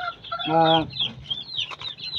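Chickens cluck close by in a short burst, one harsher drawn-out call followed by quicker clucks.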